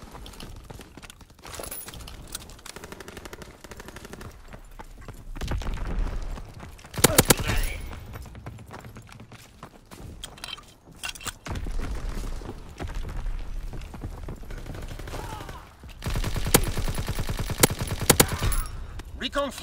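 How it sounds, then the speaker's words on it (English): Aircraft strafing gunfire in a WW2 video game comes in two loud bursts of rapid shots, one brief and one longer, over a steady background of game ambience. "Fighter aircraft ready for strafing run."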